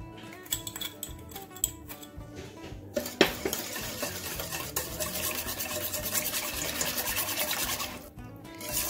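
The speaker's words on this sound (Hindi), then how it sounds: "ये देखिए मैंने इसको यीस्ट को मिक्स कर दिया।" Yeast is stirred into a mixture in a bowl while making twisted donuts, with close scraping and rubbing strokes and a few light clinks of the utensil against the bowl, steady and moderately loud.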